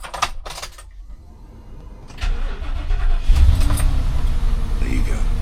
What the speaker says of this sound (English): So I've started the engine